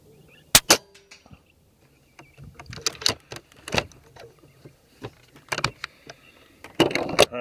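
An Air Venturi Avenger air rifle fitted with a 3D printed moderator fires, heard as sharp close cracks among several clicks and handling knocks, with the loudest transients near the start and at the end.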